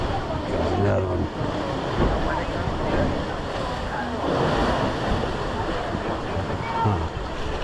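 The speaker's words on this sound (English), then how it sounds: "So many waves, literally." Ocean waves crash against the rocky Maine shoreline at Acadia, a continuous loud surging wash with rolling swells and a windy roar, heard up close with no clear talk.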